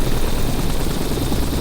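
Simulated helicopter flying low over city buildings in Flight Simulator X, its rotor and engine giving a loud, steady, unbroken drone with no pauses and no talking throughout.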